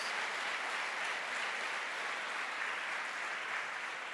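A church congregation claps steadily together, a dense, even roar of many hands filling the room at constant level for the whole span.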